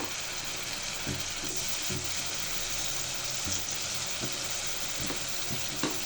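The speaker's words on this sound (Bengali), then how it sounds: "কাঁচা মশলাটা ভালো করে ভেজে নিব" Garlic paste, ginger paste and cumin paste fry with onions in hot oil for chicken biryani, a steady close sizzle punctuated by regular stirring scrapes, no talking.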